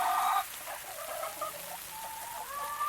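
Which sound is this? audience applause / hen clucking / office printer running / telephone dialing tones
hen clucking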